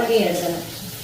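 Sliced onions with salt sauté in a pan, giving a short, close sizzle with a stirring scrape over about a second, while a voice speaks over it.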